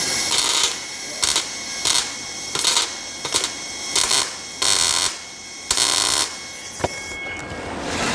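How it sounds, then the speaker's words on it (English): Tack welding on a car body panel during a vehicle restoration: about eight short, loud bursts of crackling arc, each roughly half a second long, separated by brief pauses, with no talking. "No, I'm going to come down here and tack it."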